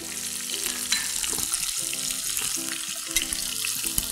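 Turmeric-soaked prawns hit a hot pan of sautéed garlic for prawn sambar, giving a loud, steady close-up sizzle and crackle with faint stirring throughout.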